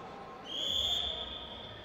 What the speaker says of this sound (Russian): Свисток арбитра